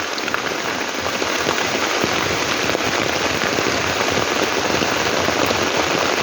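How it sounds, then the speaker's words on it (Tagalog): Heavy rain pours onto a farm field planted with atsal, a dense and even hiss of drops hitting leaves and soil that never breaks, close and loud, with no voices. "Malakas yung ulan."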